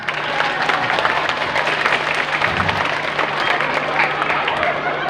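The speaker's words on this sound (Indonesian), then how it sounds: "Tepuk tangan." Audience clapping at a Maulid religious gathering, a steady crowd patter lasting several seconds with a low hum running underneath and faint voices mixed in.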